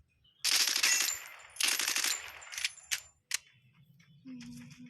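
Video game gunfire in Lone Wolf mode: two loud rapid automatic bursts followed by a few single shots, then quieter metallic clinks and a short tone.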